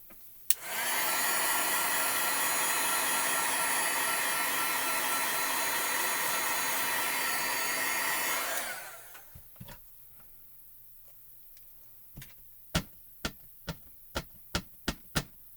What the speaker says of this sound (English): I'm going to heat set real quick.